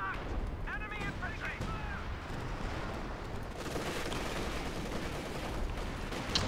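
Artillery fire rumbles through a Company of Heroes 2 3v3 battle, a dense, continuous barrage of booms and gunfire with chirping tones early on.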